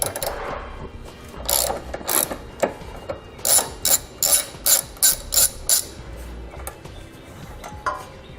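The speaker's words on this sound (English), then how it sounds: "We're going to use a 13mm socket to remove it." A ratchet with a 13mm socket loosening an exhaust hanger bolt under a 2018 Dodge Grand Caravan, clicking in a quick steady run of about a dozen loud close strokes, alone.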